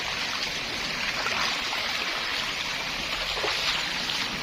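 Water from a natural spring runs in a steady, continuous stream with soft gurgles and trickles, fairly close and filling the whole scene without any voices.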